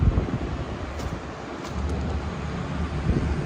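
Cold wind gusting along the Owensboro, Kentucky riverfront, a continuous rumbling buffet against the microphone with low roaring swells throughout.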